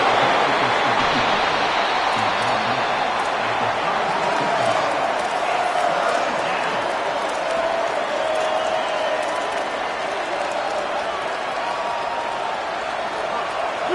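In a college football video game, the home crowd at Mizzou at Arkansas cheers with a loud, continuous roar while a commentator talks over it.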